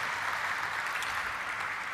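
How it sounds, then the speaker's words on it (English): Faint, steady applause from an audience at a company gathering, a soft even patter of many hands heard from a distance and continuing without a break. "I think it's a huge round of applause to everybody on that."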